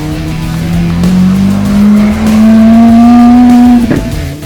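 Supercars, including Ferraris, Porsches, Bentleys, Bugattis and Lamborghinis, rev at the Gumball 3000 rally in Ljubljana in 2023, with a loud, close engine note rising steadily in pitch over several seconds amid crowd noise.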